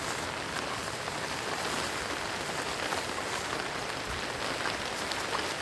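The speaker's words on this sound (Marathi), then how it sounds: "आता पाऊस काय पिछा आम्हाला सोडता नाही आहे" Light rain falls near Akeri waterfall in Sawantwadi, Sindhudurg, making a steady, even hiss with no breaks and no voices.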